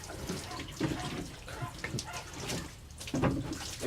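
Water poured and splashing to wash away a bad smell, a steady wet gushing and splattering with uneven surges, close and moderately loud.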